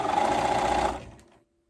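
Sewing machine stitching binding onto a romper garment, a short steady mechanical whirr of rapid needle strokes lasting about a second before slowing and stopping, close and clear.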